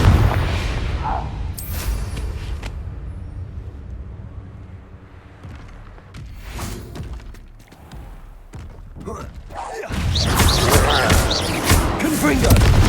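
Confringo fire spells blast repeatedly in Hogwarts Legacy, heavy booming impacts and crackling bursts landing amid combat noise, with a player shouting over them and a loud burst of blasts near the end.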